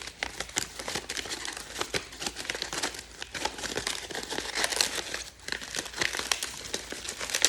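Dry corn husk layers being peeled back for a corn husk doll, a continuous close crinkling and crackling with brief tearing rustles, loud and unbroken throughout.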